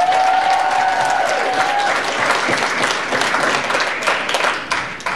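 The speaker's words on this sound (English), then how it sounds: "can we give another round of applause to our musician this morning?" Audience applause for a musician at a morning Citizenship Day 2009 event, with a thick wash of clapping that holds steady and then thins out toward the end.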